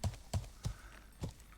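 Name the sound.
horse hooves clip-clopping in video game Life is Feudal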